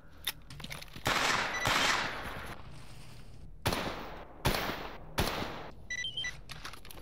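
Gunfire in a video game: several bursts of automatic fire and sharp shots, loud and fairly close, separated by brief pauses, over a quieter ambient background.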